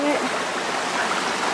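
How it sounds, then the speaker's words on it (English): A small stream flows on a hiking trail near Champney Waterfalls, a close, steady wash of running water filling the whole moment with no break. "This is a little stream."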